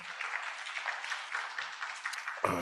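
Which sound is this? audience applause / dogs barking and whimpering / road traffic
audience applause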